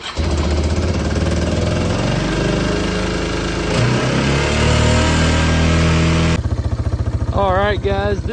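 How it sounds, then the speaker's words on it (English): Yamaha BearTracker ATV engine running loud and close, a rough steady idle that rises into revs, then settles into a lumpy idle while someone talks over it. "this thing idles like brand new with no smoke whatsoever, revving it up and everything"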